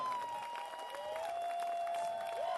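Audience applause for a band at a livestreamed hall show, a dense, steady patter of clapping that fills the clip from start to end, with a sustained tone ringing over it and no speech.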